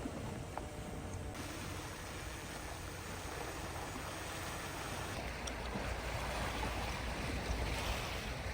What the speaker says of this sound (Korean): 파도가 밀려올 때마다 몽돌이 서로 부딪히며 독특한